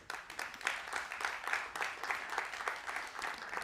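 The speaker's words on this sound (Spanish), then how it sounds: "Un aplauso para todos ellos." An audience applauding at a technology conference in Valencia, a steady wash of many hands clapping at moderate volume, continuous throughout with no pauses.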